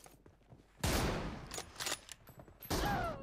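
Gunfire crackles in the mobile battle game PUBG Mobile, with a few sharp bursts and scattered shots over a quiet background.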